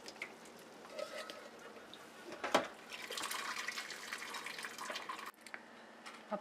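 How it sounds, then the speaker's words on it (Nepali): Water is poured off freshly boiled noodles, a faint, steady splashing stream that swells in the middle and then cuts off abruptly. "अब म यसको पानी तर्याउन गइरहेको छु"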